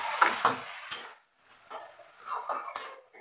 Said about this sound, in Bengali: মশলা দিয়ে এটাকে নাড়িয়ে নেবো